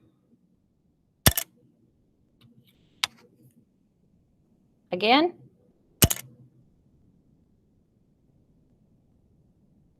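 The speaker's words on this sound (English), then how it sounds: "That sound was the popsicle stick." A wooden popsicle stick dropped onto a hard surface, making a few sharp, brief clicks spaced apart in a quiet room, with a single short spoken word between them.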